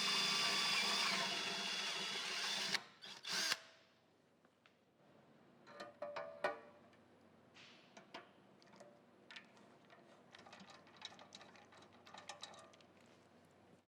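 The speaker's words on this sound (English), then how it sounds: "I'll get a pilot hole drilled and then the rivet nut sized hole, get the rivets in" Power drill boring pilot holes in a radiator fan shroud for a classic Camaro build, a loud whir for a few seconds followed by quieter intermittent clatter and handling noise.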